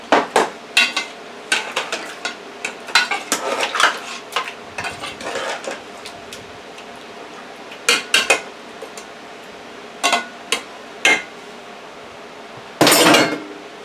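BBQ goat bites get stirred in a pot, a spoon knocking and scraping against the metal in irregular bursts of clinks and clatters, close, with short quiet gaps and no talking.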